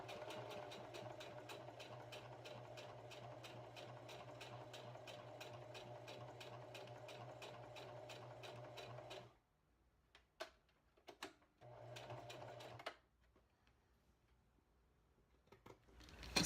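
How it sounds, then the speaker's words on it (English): Sewing machine stitching the sides of a fabric shoe bag, a fast and steady mechanical whir with rapid needle ticks. It runs continuously, then stops and gives a few brief restarts, with clicks and handling noises in between. "when you sew the outside bag, you want to go all the way to the end on top."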